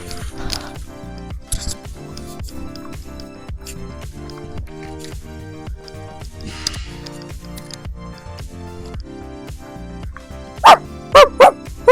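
A person mimics a dog's bark in a playful challenge game, with a quick run of loud, close yapping bursts near the end over continuous background music.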